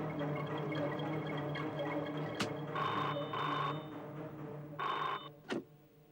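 An old-style telephone rings indoors over a steady low hum, two brief bursts of electric bell trilling, followed by a couple of sharp clicks as the call cuts off.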